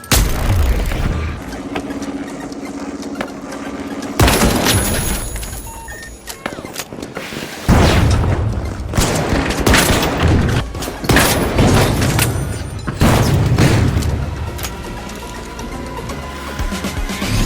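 A frag grenade detonates in the arena shooter The Finals amid a chaotic firefight, with loud booming blasts and bursts of gunfire recurring throughout, dense layered impacts close by.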